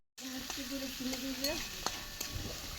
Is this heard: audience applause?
no